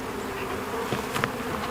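Honeybees pour out of an opened hive during a first inspection after a cold Texas winter. The dense, steady buzzing is close and continuous, with a couple of brief louder swells as bees fly near.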